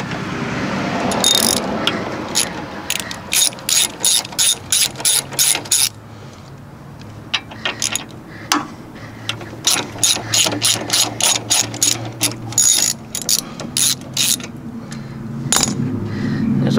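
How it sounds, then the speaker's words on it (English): A hand ratchet loosens the rocker arms on a VW Type 3 engine, with repeated quick bursts of close, crisp clicking separated by short pauses and light metallic handling in between. "pull out our rockers"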